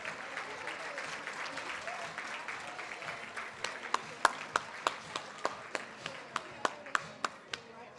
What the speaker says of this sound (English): Please give a round of applause for all of them.